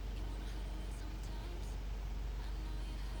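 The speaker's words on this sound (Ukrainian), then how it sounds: "обороти не скачуть, все дуже добре працює" A 2015 Honda CR-V with a 2.2 diesel engine and automatic gearbox idles at steady, even revs, a low constant rumble with no surges.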